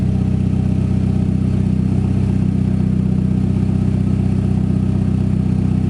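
A car engine idling steadily after a clutch repair, a continuous low throbbing hum with a slight clatter, close and even throughout with no change in pace.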